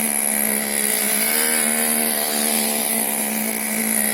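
A Team Associated Mini MGT 3.0 RC monster truck motor idles with a steady, tonal buzzing drone that stays close and constant, with no talk over it.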